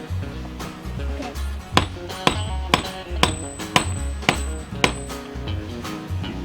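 A hammer striking a bolt on a large mobile sheep shed under construction, with about ten sharp metallic hits in a roughly regular rhythm, close by, over low rumbling background noise.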